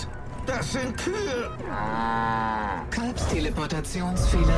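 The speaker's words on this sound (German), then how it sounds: "Siehst du das? Das sind Kühe!" Cows moo in the video game Far Cry 5: Lost on Mars, several long, drawn-out bellows overlapping one another, loud and close, with game sounds and a voice in between.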